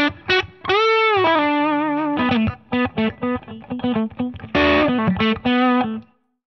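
Distorted electric guitar through a PRS J MOD 100 amp with the bright switch on and presence a little past 2, playing a bending lead note then a run of short, choppy chords and stabs, loud and alone.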